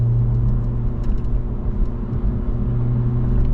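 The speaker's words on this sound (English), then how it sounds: "it's got a pretty good exhaust note here on this vehicle for this small of an engine" A 2024 Honda Civic Si's small engine rumbles steadily at close range, a low droning exhaust note holding even throughout with no talking.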